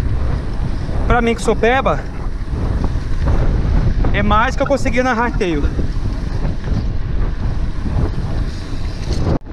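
Headwind buffets the microphone during a mountain bike ride on a slight false-flat climb, a steady low roar running the whole time, with someone talking over it in two stretches.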